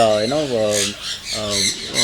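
Birds in an open aviary squawk loudly in harsh, harmonic calls, with a long squawk, a brief lull and then renewed squawking close by, with no voices.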